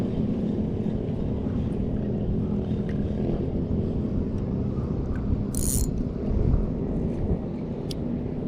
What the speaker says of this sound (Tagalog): Ang smooth ng ating reel.